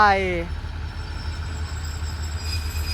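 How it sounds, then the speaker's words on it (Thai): A generator powered by a Perkins 1006 diesel engine runs at a railway depot with a steady, loud low rumble and drone. A voice is briefly heard at the very start. "นี่นะครับ คือเครื่องปั่นไฟ"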